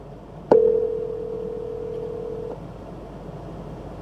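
A single steady electronic telephone tone sounds for about two seconds through a Lexus RX's Apple CarPlay system, then cuts off, leaving a low background hum.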